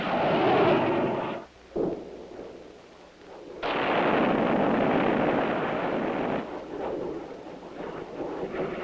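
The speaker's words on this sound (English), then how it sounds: "the missiles were soon going off with monotonous regularity" Missile launches at Point Mugu, a loud roaring rush of rocket exhaust that cuts off briefly, then returns as a long sustained blast before tapering, with wind buffeting throughout.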